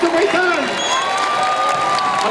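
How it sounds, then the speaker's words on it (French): A festival crowd at the opening of the Fêtes de la Madeleine applauds and cheers loudly in a brief dense burst, with whoops and shouts rising over the clapping. "Un tonnerre d'applaudissements et du désobéissant."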